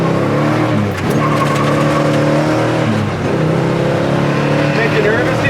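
A 1969 Chevelle SS engine pulls loudly while cruising down the road, a steady rising drone with a brief dip near one second and another near three, voices talking faintly over it.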